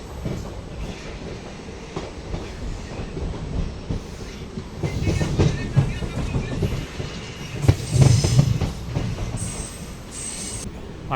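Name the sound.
hydrogen train departing station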